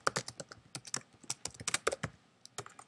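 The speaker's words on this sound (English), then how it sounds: "So instead of me typing out width and height, I can just type the letters." Rapid keystrokes clatter on a computer keyboard, close and crisp, in uneven bursts of quick taps with brief pauses between, and no talking.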